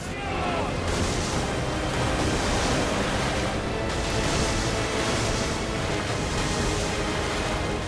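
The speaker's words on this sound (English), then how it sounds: "And heading into a whitewater rapids." Whitewater rapids in the video game Modern Warfare 2 give a loud, steady roar of rushing water that fills the whole stretch without a break, with gusty wind-like noise layered over it.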